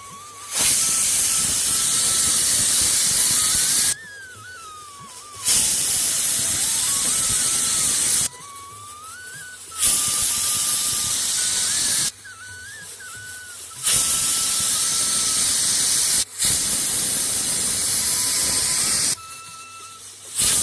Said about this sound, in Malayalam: നമ്മുടെ കുക്കറിലൊക്കെ വിസിൽ വന്ന് തുടങ്ങാറായിട്ടുണ്ട്